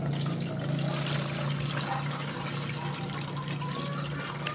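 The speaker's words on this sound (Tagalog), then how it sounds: "salain natin yung ating pinaghugasan" Water used to wash fish, still holding gills and guts, pours through a strainer in a steady, continuous splashing rush that stays even throughout, with a low hum underneath.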